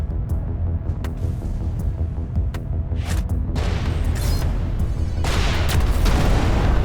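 Explosions from bomb throwers in the space combat game Everspace 2 land as a series of booming blasts and sharp cracks, growing denser and louder toward the end over a steady rumble.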